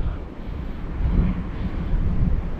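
Strong wind buffets a fishing boat at sea, a steady low roaring rush that swells and eases over a couple of seconds, loud and close with no voices.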